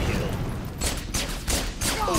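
Rapid pistol gunfire in Halo: The Master Chief Collection, several quick shots in a short burst over a steady noisy game background.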